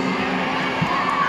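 A concert audience shouts and cheers loudly in a steady, dense roar of voices that fills the whole brief moment.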